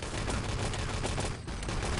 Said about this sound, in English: Shooting from courtyard.